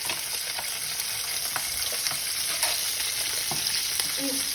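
Vegetables and bell pepper frying in olive oil in a pan, a loud, dense, continuous sizzle with scattered crackles and light stirring throughout.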